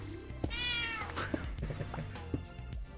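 A house cat meows close by, a long drawn-out meow followed by shorter chirpy calls, with faint game sounds behind and no talking.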